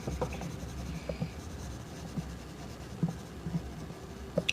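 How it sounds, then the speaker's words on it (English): Colored pencils scratch and rub across paper in close, steady strokes, with occasional light taps as the pencil lifts and sets down. "I started drawing on colored pencils when I was little"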